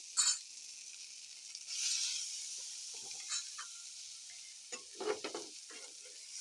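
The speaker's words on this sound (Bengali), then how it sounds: "আর এর ভিতরে কিন্তু এখন দিয়ে দেব সেই সিদ্ধ করা নুডলসটা" Boiled Maggi noodles added to a frying pan and stirred, a soft hissing sizzle with scattered clinks and scrapes of the spoon, faint and close.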